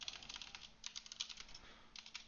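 Close, quiet typing on a computer keyboard while entering code for an Azure DevOps pipeline, with clustered bursts of key clicks separated by short pauses, alone with no talk.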